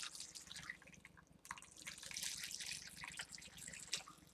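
Homemade liquid fragrance mixture poured from a pot, a faint trickling, splashing pour with a short pause partway through, close and quiet, no talking.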